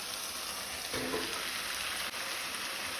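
Prawns and potatoes sizzle steadily in a pan for a Goan prawn masala curry, a soft continuous frying hiss with a brief stir partway through, heard alone.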